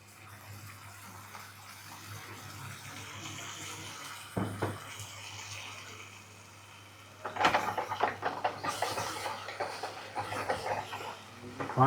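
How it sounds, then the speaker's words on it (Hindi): Water splashing and trickling into a cooking pot in a culinary training kitchen, a faint pour at first with a soft knock midway, then louder, splashier gurgling toward the end, with no talking over it. "अब हम इसमें थोड़ा सा पानी ऐड करेंगे ताकि ये थोड़ा सा गल जाए"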